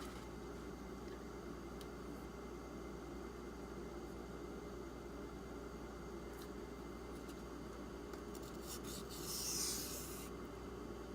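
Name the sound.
sharpening Benchmade Griptilian 440c knife edge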